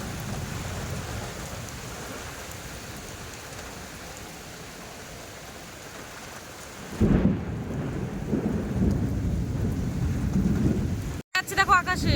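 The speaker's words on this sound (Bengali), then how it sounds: "হঠাৎ করে কি বৃষ্টি" Heavy rain pours steadily during a storm, then a deep thunder rumble swells around the seventh second and the downpour grows louder before a brief cut near the end.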